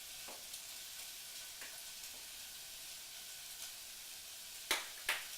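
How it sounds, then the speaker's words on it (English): Garlic frying in a pan for a hardy winter soup, a soft steady sizzle with a few brief stirring clinks near the end. "here's the simmer fry thing going on"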